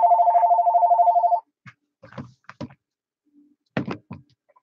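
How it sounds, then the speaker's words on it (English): A telephone rings in a steady electronic trill for about a second and a half at the start, heard over a two-way FM radio net, followed by scattered clicks and brief bursts of sound. "I had the phone ringing there in my ear."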